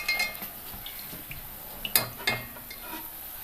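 Fried parippu vada being scooped out of hot oil with a metal slotted spoon, giving a few sharp clinks and scrapes against the pan over a soft, faint sizzle.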